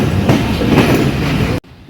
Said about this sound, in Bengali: আমাদের ট্রেন প্রবেশ করলো পোরাটা জংশন